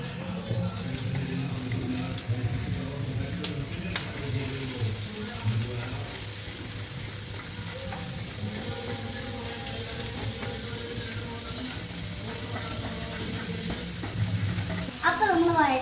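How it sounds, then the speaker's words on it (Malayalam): Carrot, onion and green chilli sautéing in oil in a pan, a continuous sizzle with steady stirring and scraping, a brief burst of water near the end. "ആദ്യം നമ്മൾ എണ്ണയൊക്കെ ഒഴിച്ചിട്ട് ക്യാരറ്റും പിന്നെ സവാളയും പച്ചമുളകും എടുത്ത് ഇങ്ങോട്ടേക്ക് ഇടണം."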